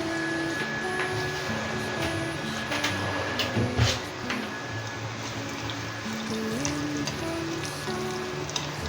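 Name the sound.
garlic frying in coconut oil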